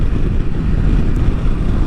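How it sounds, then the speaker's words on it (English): Strong wind buffeting a motorcycle rider's helmet during a rain ride in Texas, a loud, steady low roar filling the whole stretch with no talking. "Look at that wind."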